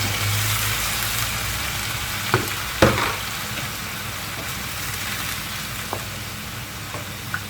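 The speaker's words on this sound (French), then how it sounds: "Ensuite, après, je rajoute ma marinade à la sauce." Marinade poured into a hot pan of sauce for a tender leg of lamb, giving a steady soft sizzle with a few brief splashes and clicks, close and alone without talk.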